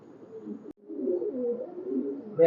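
Pigeons of a red-necked high-flyer breed coo softly in low, rolling throaty phrases, with a brief pause early on, close and alone.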